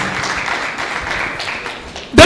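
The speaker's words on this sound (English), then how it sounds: "The current pathfinders, please clap for yourself." Applause for graduating medical laboratory pathfinders at a university induction and oath-taking ceremony, a dense crowd clapping steadily in a hall before an abrupt loud burst at the end.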